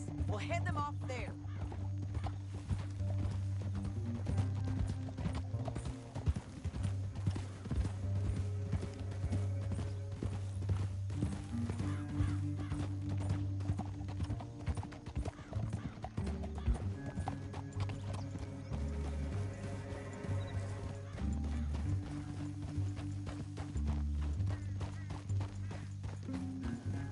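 Horse hooves clip-clop steadily through a western canyon scene, a continuous rhythmic clatter with occasional whinnies, heard beneath low music and intermittent voices.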